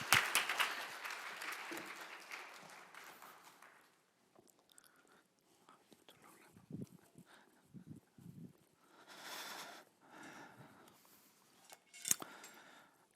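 Congregation applause at a Sunday church service, broad clapping for the first few seconds that fades out, followed by scattered faint shuffles and small noises.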